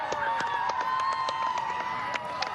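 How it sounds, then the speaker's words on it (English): Crowd in Indianapolis cheering as the solar eclipse reaches totality: a continuous mass of voices with whoops, shouts and scattered claps, fairly loud and steady throughout. "Listen to that cheer."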